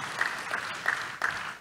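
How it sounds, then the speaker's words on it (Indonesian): A church congregation claps for Jesus in brief, uneven bursts that rise and fall at a moderate distance, with no voices over the clapping. "Tepuk tangan yang bangga buat Tuhan kita Yesus."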